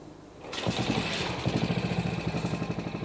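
A restored classic Moto Guzzi motorcycle engine fires up in a workshop and settles into a steady, close idle of deep rhythmic thumping pulses, with no talking.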